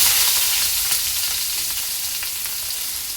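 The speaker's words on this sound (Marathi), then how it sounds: "तेल चांगलं गरम झालेलं आहे। यामध्ये मी टाकणार आहे कढीपत्ता, कांदा" Curry leaves and chopped onion dropped into hot oil, a loud, close, hissing sizzle that stays steady and slowly eases, with faint crackles and no talking.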